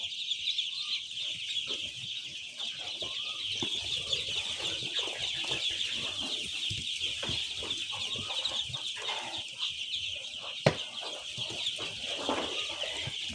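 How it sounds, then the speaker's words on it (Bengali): A dense, continuous chorus of shrill peeping from a brooder of about 500 two-day-old Khaki Campbell ducklings on a farm, steady and close throughout with no talking. "এই হলো আমার খাকি ক্যাম্বেল হাঁসের বাচ্চা"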